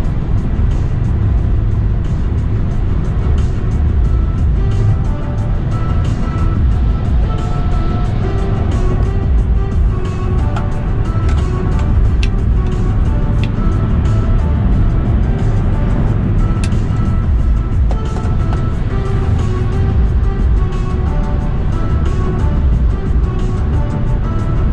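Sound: Tesla Model 3 Facelift driving while regenerative braking

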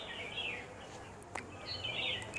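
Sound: birds chirping outdoors

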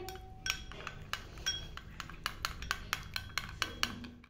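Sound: mixing orange peel night cream in a bowl

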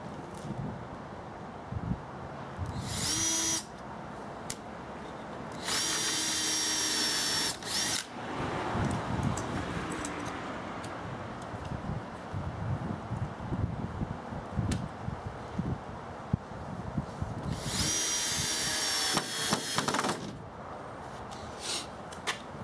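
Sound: power drill pre-drilling screw holes in wood

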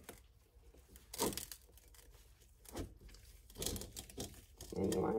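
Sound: cutting the sides of a plastic bath bomb mold

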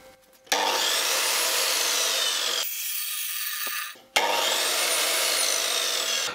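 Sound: Revolt CS2800 circular saw running

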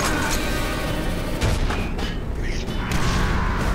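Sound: Quake 4 Gunner enemy firing nail gun, video game

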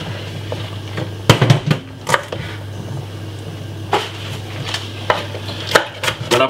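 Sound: knife chopping spring onion and white onion

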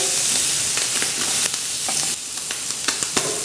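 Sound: squid frying in a very hot pan

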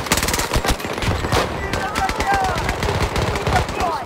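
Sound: turret firing gunshots in a video game

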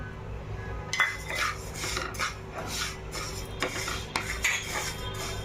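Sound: rice being dry-roasted in a pan

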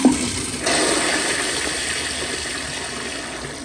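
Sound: Gerber Ultraflush toilet flushing, 2005 model

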